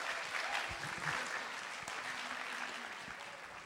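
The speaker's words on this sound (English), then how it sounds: "let's give her a welcome and a round of applause" An audience claps to welcome a woman introduced on stage at an arts event. The applause is soft and steady, with a few faint voices and cheers mixed in.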